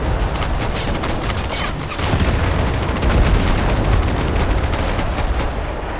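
Dense, rapid volleys of gunfire in Total Conflict: Resistance, a loud crackling fusillade of many overlapping shots with occasional heavier booms, running steadily throughout.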